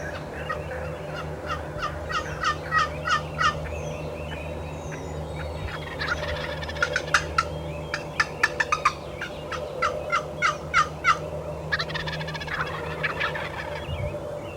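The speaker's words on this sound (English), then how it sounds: "you're going to hear more calling and more gobbling from the timber" Wild turkeys gobble and call from timber near a Mississippi River island field at dawn, repeated rattling gobbles in bursts at moderate distance over a steady low rumble, with scattered smaller bird calls in between.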